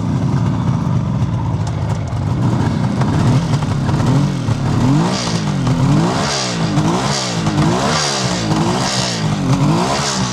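A 1976 Suzuki GT750 two-stroke triple motorcycle on its original pipes revs repeatedly from a steady idle, each blip rising and falling smoothly, close and loud on a cold day with no voices.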